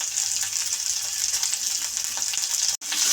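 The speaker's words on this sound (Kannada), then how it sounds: "ಒಂದು 4 ಪಳಕು ಬೆಳ್ಳುಳ್ಳಿ ಹಾಕ್ಬಿಟ್ಟು ನೀಟಾಗಿ ನಾವು ಇದನ್ನು ಹುರ್ಕೋಬೇಕು" Ginger, green chillies and garlic fry in oil in a pan for a kabuli chana kootu: a loud, steady hiss and crackle of sizzling, with a brief gap near the end and no voices.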